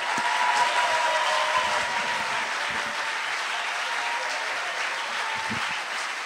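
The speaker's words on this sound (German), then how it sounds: "dein Applaus" Audience applause after a talk at a science slam: a steady, sustained wash of many hands clapping, evenly loud throughout and filling the room, with no voices.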